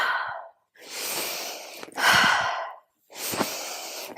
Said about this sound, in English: You can probably hear me breathing out through the mouth.